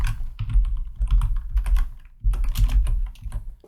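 A file name is typed on a computer keyboard in two quick bursts of close, crisp key clicks separated by a short pause.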